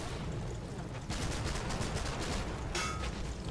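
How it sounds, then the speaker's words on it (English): A jeep-mounted machine gun rattles in a war video game, sustained bursts of rapid fire starting partway through with a brief sharp burst near the end, heard over steady battlefield ambience. "This jeep is actually doing really well. It's just been machine gunning people."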